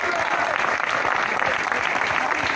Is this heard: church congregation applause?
yes